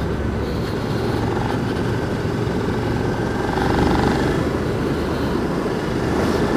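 A Suzuki SV650 V-twin motorcycle cruising in sixth gear gives a steady, dense engine drone mixed with heavy wind rush, holding level and continuous with no speech.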